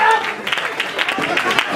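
Audience clapping at an award ceremony for a first-year team: a short spell of scattered, moderately loud applause, with a voice talking over it.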